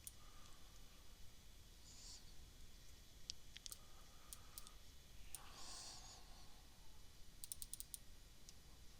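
Faint, sharp mouse clicks on a computer, scattered singly and in a quick cluster over a quiet room hush, with no voices.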